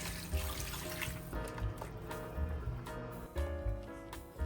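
Water is poured into a pot of chicken cooking for a Nigerian stew, a light liquid splashing and trickling under soft background music with a steady low beat.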